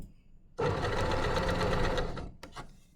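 A sewing machine stitches a skirt onto a dress bodice in one close, steady burst of about a second and a half, then stops, followed by a couple of soft clicks from the machine.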